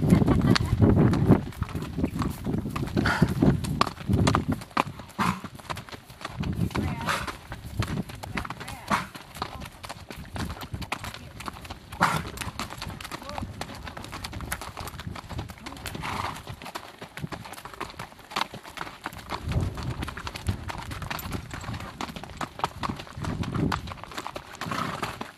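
Horse hooves clip-clopping up a hill on a trail in Escalante Canyon, a steady close rhythm of hoofbeats under occasional talk, with a brief whinny.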